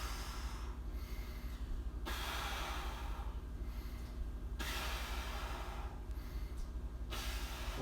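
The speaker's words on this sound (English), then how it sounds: "Big bracing breath. You can exhale as you press." Forceful exhaled breaths come in three separate bursts during one-arm floor presses, heard close up over a steady background whoosh, with no talking.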